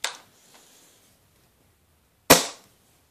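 An Ares MS700 airsoft sniper rifle fires Mad Bull 0.43 g heavy BBs: two sharp, loud snapping shots about two seconds apart, each a crisp crack with a brief tail, over near silence.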